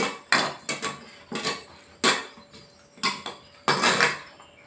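Spoon or utensil knocking and scraping against a bowl while mixing aloo chaat with tomatoes, in repeated rhythmic bursts about once per second, close and fairly loud.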